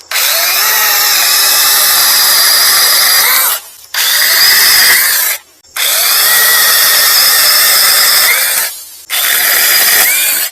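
A Sainlogic 21 volt brushless mini chainsaw with a 6 inch cut runs loud and close in long, steady high-pitched whining bursts, cutting out briefly between runs.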